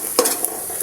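Onions frying in a pan for beresta, a short burst of close sizzling with a stir or scrape near the start and a steady hiss after.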